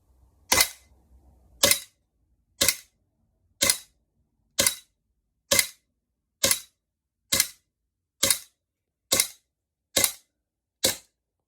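GHK Glock 17 airsoft pistol with a heavy steel slide, firing on green gas: eleven sharp, loud cracks at a steady pace of roughly one per second, each clean and alone with quick decay.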